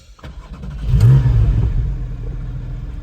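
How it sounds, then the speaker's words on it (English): A Porsche 718 Cayman GT4's flat-six engine blips into a loud, throaty exhaust rev, rising sharply then settling into a rumbling idle close by. "Love that exhaust note. So it's a flat 6"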